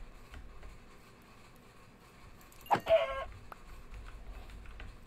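A single chicken lets out one brief, loud burst of clucking nearby, standing out against a quiet, low background rumble.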